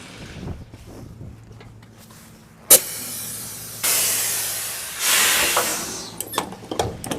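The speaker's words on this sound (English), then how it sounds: "I'm going to cut the air off to the back trailer and basically the dolly, and then release the fifth wheel." Compressed air hisses from the air lines of a truck's rear trailer and converter dolly as the air is cut off and the fifth wheel is released, with a sharp burst followed by longer, loud rushing bursts over a low idling engine.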